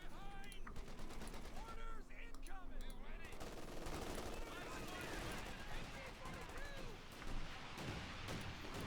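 Video game gunfire in Company of Heroes 2, dense rapid machine-gun bursts and shots crackling continuously with distant explosions, steady and busy under overlapping voices talking.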